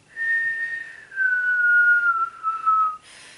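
A human voice imitates an eerie whistle, a thin, clear tone that slides slowly downward in two long drawn-out phrases, faint and alone in a quiet room.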